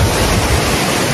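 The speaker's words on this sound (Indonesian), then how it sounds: "Air terjun yang aku bilang tadi ya, ternyata ada di sini ya." A waterfall in Switzerland roars as a loud, steady broadband rush of falling water, close and unbroken with no voices.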